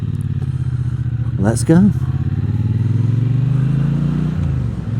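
Triumph T120 motorcycle pulling away and accelerating through the gears, a steady engine drone rising gently in pitch, close and loud beneath a rider's brief spoken words.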